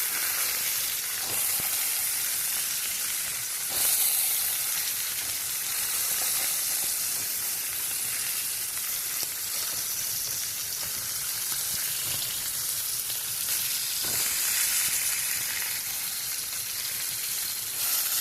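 Sausage patties fry in a pan, a loud, dense, continuous sizzle like steady rain with occasional sharper crackles, close up and with no voices.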